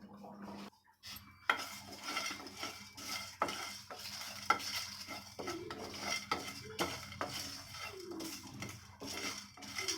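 Biryani masala spices are stirred around a dry pan, with steady scraping and light metallic clinks of a spoon, faint and close, with no talking.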